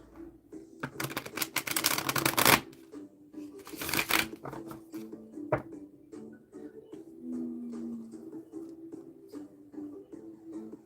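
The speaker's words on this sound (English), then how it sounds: "Oh, gotta shuffle this up." Tarot cards are riffled in two quick, loud bursts, followed by quieter tapping and handling sounds and a faint hum.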